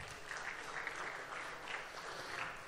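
Dense applause from a conference audience, steady and fairly faint, with many hands clapping at once across the whole stretch.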